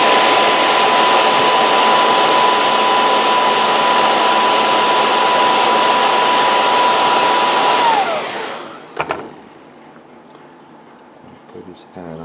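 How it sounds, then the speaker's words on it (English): A hair dryer drying paint on a painted bust blows with a loud, steady whoosh and a thin whine for about eight seconds, then cuts off, leaving quiet handling sounds. "I'm going to take my hair dryer and dry those eyes just a bit."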